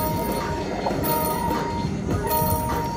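Train rumble and rolling rail noise from the Cash Express Luxury Line slot machine game, a steady loud mechanical clatter with a faint tonal whistle layered over it, continuous throughout with no talk.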